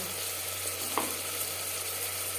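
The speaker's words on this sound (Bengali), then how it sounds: "হালকা করে ভেজে নেব পেঁয়াজ টমেটো হালকা করে ভেজে নেওয়ার পর দিয়ে দেবো ম্যারিনেট করে রাখা মাংস" Marinated mutton frying with onion and tomato in a pan, a steady soft sizzle held at an even level, with one brief stir or scrape near the middle.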